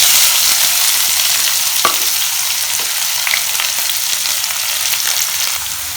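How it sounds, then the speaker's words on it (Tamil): Two medium onions, finely chopped, frying in a pan for Punjabi-style chicken keema, a loud, steady sizzle with occasional stirring clicks and scrapes. "நான் இங்கே 2 மீடியம் சைஸ் வெங்காயத்தை சின்ன சின்னதாக நறுக்கி வச்சுருக்கிறேன், அதை அப்படியே இதில் சேர்த்துடலாம்"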